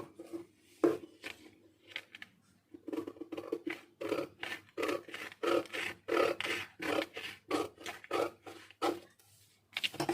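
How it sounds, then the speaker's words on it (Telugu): Scissors snip through fabric in a quick series of crisp, closely spaced cuts, shaping a fish-cut sleeve pattern for hand stitching, close and clear with no talking. "ఇక్కడికి ఇలా ఒక కటింగ్ చేద్దాం."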